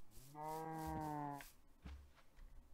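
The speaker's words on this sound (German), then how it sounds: "Ich höre nur Mu." A single low, drawn-out Minecraft cow moo with a synthetic, game-like tone, lasting about a second, followed by quiet background.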